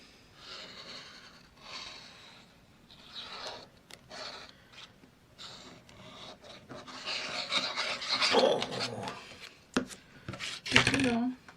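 Paper being glued into a junk journal, with soft rubbing, scraping and pressing noises that come and go, faint and close by, growing busier toward the end under some light talk.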